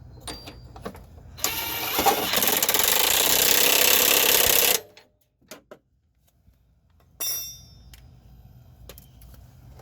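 A wrench and 19mm socket work a front upper control arm bolt on a 2003-09 Toyota 4Runner, giving a burst of rapid ratcheting or impact rattle lasting a few seconds, followed by metallic clicks and a shorter second burst.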